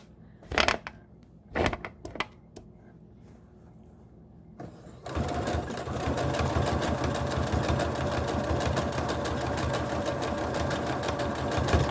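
Domestic sewing machine zigzag stitching across a wire while a fabric mask is sewn: a few short starts, then a steady, loud, fast mechanical whir and needle chatter running continuously to the end.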